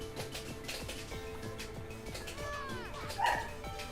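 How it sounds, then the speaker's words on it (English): A pet dog barks and yips somewhere in the room, fairly faint, behind steady video game music and effects from Nickelodeon All-Star Brawl. "My dog is barking."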